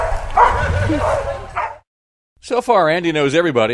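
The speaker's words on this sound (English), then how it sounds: "if you hear that barking, that is because the dog most likely found the kid" A search and rescue dog yips and whines excitedly after finding a hidden camper in the Maine woods. The barking comes in quick, close bursts after a voice talks and falls silent.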